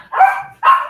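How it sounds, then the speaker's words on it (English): A dog gives two loud, close barks, each a short tonal yelp with a brief gap between, alone without talk. "Sorry, dogs"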